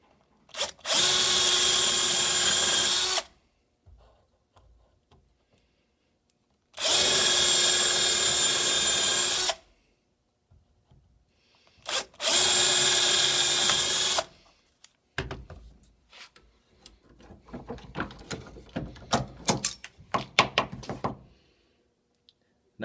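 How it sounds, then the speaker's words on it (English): Three separate bursts of a power drill boring the corners of a fidget spinner blank clamped to a table over a plate, each a few seconds long and loud, followed by lighter clattering and handling noises. "we're going to drill those three corners by hand."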